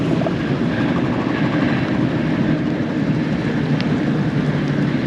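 A steady low rumble of a train rolling by at a distance, constant and unbroken throughout, with no voices.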